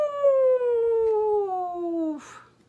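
A single drawn-out howl, imitated by a human voice like a dog on a moonlit night, slides slowly downward in pitch for about two seconds, close and clear with nothing else around it.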